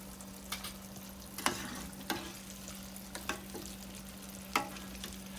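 Shrimp coated in cornstarch frying in hot oil, a steady low sizzle with a constant hum and scattered sharp pops and clinks from stirring, fairly quiet and close, with no talking.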